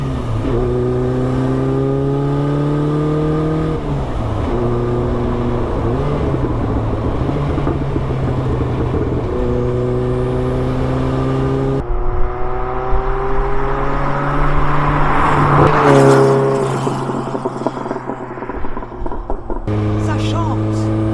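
A Renault R5 Turbo 2 engine on the move, its note climbing through repeated rising sweeps as the car pulls through the gears, with a brief lift and gear change around the middle, loud and close, with occasional voices over it.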